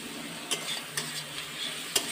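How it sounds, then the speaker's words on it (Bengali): Spice paste is stir-fried in a pan over a stove, giving a steady soft sizzle with a few sharp scrapes of the spoon against the pan, close by and with no voices. "মশলাটা কষে নিচ্ছি।"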